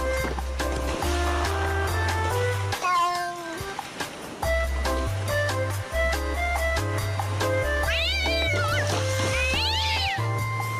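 A cat meows repeatedly over a looping rhythmic music track, including a couple of long, wavering, drawn-out meows near the end.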